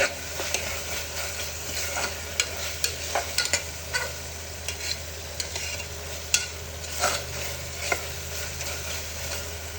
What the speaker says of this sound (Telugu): ఇది బాగా ఫ్రై చేయాలి ఎందుకంటే పచ్చి స్మెల్ రాకుండా బాగా బాయిల్ అయ్యేదాకా ఫ్రై చేయాలి